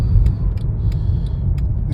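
Cold Mercedes car engine idling, a close, heavy low rumble with a regular ticking clatter repeating about three times a second, no talk.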